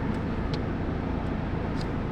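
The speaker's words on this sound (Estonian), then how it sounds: "Oota, auto tuleb." A car approaches on a rough road in the Balkans, giving a steady, loud engine and rolling rumble with a few faint clicks on top.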